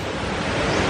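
Rushing waterfalls in Cebu give a steady, loud, broadband roar of falling water that stays constant throughout, with no voices.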